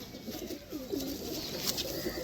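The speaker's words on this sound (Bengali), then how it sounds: "একটু একটু দেখিয়ে দাও পায়রাগুলো কোয়ালিটি দেখিয়ে দাও" Fulsira Madras pigeons cooing softly and repeatedly, close by, with a steady background hiss and no talking.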